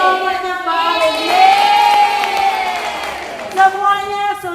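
A class of children in a school classroom breaks into applause and cheering for a group, a busy burst of clapping and shouts layered with voices throughout.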